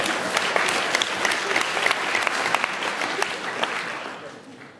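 Audience applause at a rap and slam poetry event: a lively burst of many hands clapping with distinct sharp claps poking through, a few voices mixed in, gradually thinning out toward the end.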